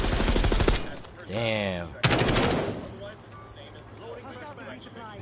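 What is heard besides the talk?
gunfire in the video game Call of Duty Warzone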